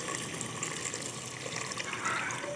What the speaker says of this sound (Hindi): अभी मैं इसमें पानी शामिल कर दूंगी